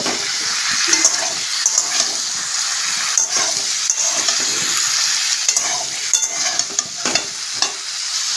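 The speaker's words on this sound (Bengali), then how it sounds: "পেঁপেটাকে দিয়ে একটু কষিয়ে নেব।" Chopped papaya sizzles loudly while being sautéed and stirred in a pan, a continuous frying hiss broken by repeated close scraping strokes of a spatula.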